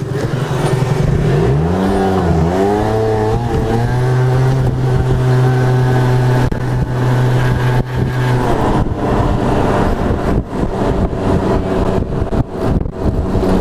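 A loud motorcycle engine revs up and down close by, its pitch climbing and falling, then settles into a steady, rough roar with shifting throttle.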